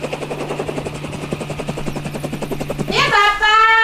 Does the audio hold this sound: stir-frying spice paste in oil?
no